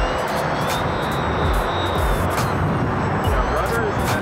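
A radio-controlled model airplane flying in strong wind of about 40 mph, its faint, thin motor whine riding over a loud, constant roar of wind buffeting the microphone.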